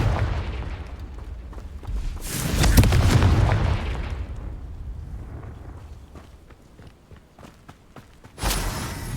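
A Confringo fire spell bursts in the Hogwarts Legacy video game with a loud booming blast that swells and rumbles for a couple of seconds, fades into scattered crackles and thuds, then a second sharp burst hits near the end.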